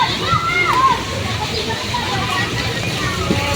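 Heavy typhoon rain pours steadily and loudly at an outdoor bayside fish market, a continuous wash of rushing water with faint voices mixed into the background.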